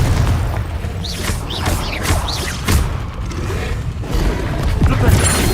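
Confringo fire-blast spell in the Hogwarts Legacy video game combat, booming bursts and whooshes repeating over a dense, loud battle mix with a spoken incantation.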